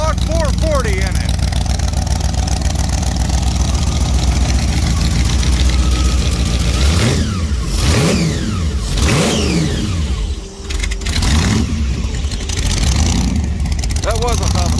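A blown big block 440 V8 in a vintage Barracuda race car revs hard and loud up close, with repeated rising and falling throttle blips and a rough idle between bursts.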